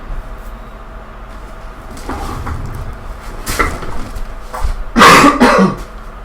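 A man coughs a few times, moving away from the microphone, with rough bursts in the middle and a louder, longer cough near the end over a quiet room background.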